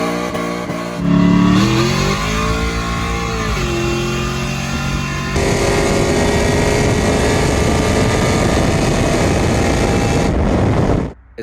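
An LS-swapped V8 engine with a performance cam and a lumpy, choppy idle revs up hard and holds a loud, raw roar before cutting off.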